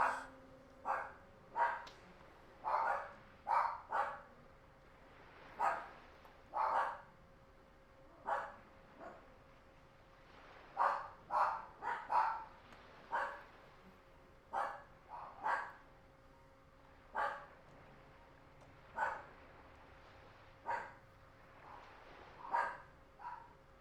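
Dogs in the video game Sherlock Holmes: Crimes & Punishments bark repeatedly in irregular bursts over a faint steady hum, with single barks and quick doubles spread across the stretch, moderately loud and alone.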